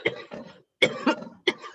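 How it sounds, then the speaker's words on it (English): Several harsh coughs in a row, close and loud, in two or three bursts separated by short pauses. "bad cough"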